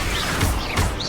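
A blasting explosion spell from a Harry Potter video game erupts as a short, dense burst of crackling noise with two quick surges, close and loud, with no gap of quiet.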